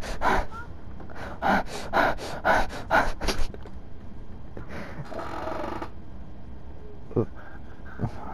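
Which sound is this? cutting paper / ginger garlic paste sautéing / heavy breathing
heavy breathing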